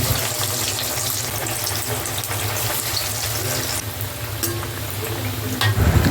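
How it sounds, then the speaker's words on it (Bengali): Mixed vegetable chops deep-frying in hot oil in a wok give off a loud, continuous sizzle and bubbling, with a few faint clinks near the end. "কড়াইতে তেল গরম করে চপগুলো লাল করে ভেজে নেব"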